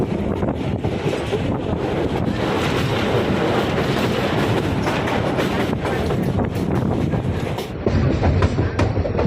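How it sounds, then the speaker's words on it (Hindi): The Koyna Special Express from Pune to Kolhapur runs on the rails, a loud continuous rumble and clatter of wheels with wind rushing past, steady throughout with a brief dip near the end. "तो अब हमारी ट्रेन पूना से अपने पहले स्टॉपेज जेजूरी पर आ गई है।"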